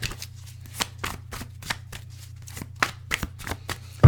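Rapid papery riffles of tarot cards being shuffled, a dozen or so quick bursts in an uneven rhythm over a steady low hum, close up.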